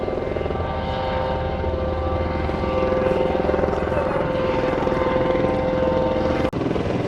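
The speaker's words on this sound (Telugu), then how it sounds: "సో హెలికాప్టర్ వస్తుంది," A helicopter approaching a helipad in Monaco gives a steady, loud rotor thrum and engine whine that holds constant throughout, with one brief dropout near the end and no talk over it.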